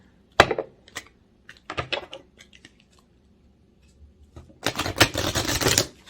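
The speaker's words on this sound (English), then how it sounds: "Let's see how easy they are to shuffle here" Crisp, papery riffling and tapping of a thick oracle card deck being shuffled, in short bursts with gaps, ending in a longer, louder riffle near the close.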